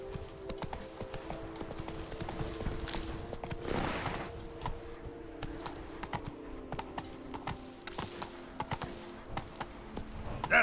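Hooves of Roach the horse in The Witcher 3, a steady, fairly faint clip-clop rhythm running throughout with a brief swell near the middle.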